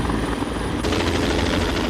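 A rescue helicopter sets down in a schoolyard, its rotor chop a loud, continuous rhythmic thumping with a dense roar filling the close-up scene throughout.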